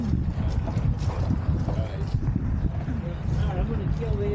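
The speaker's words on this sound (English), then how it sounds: "Alright, I'm gonna kill the engine." A sailboat's engine runs steadily at close range, a low rumbling drone with wind buffeting the microphone and water movement around the hull.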